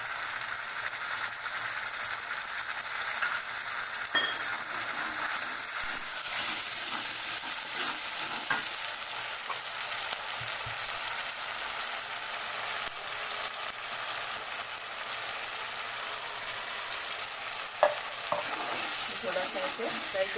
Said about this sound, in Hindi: फ्राई कर लीजिए ये मसाला डाल के।